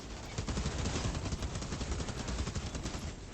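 Rapid automatic gunfire from a healing gun in the shooter Outriders, a steady dense rattle of shots with brief sharp bursts, sustained and fairly loud without any talk.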